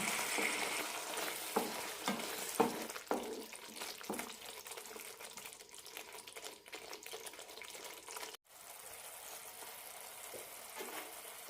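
Paneer kurma stirred in a pan on the stove, a soft scraping and sizzling texture with a few louder spoon knocks early on, steady and close, with no voices.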